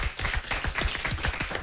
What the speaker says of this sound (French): on applaudit encore Yati Yati très fort